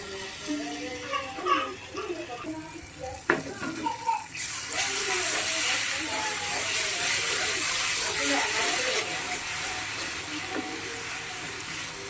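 Banana flower mash sizzles and hisses steadily as it is stir-fried with browned onions in a pan, the frying loud and continuous after a few seconds of clattering, with a voice speaking over it.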